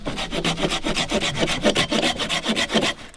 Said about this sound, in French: je suis en train de scier